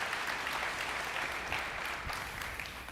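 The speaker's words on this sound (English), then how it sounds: "Can you guys clap for them as they get off the stage?" An audience claps for performers leaving a church stage, a dense, steady patter of many hands holding at an even level for a few seconds with no talking over it.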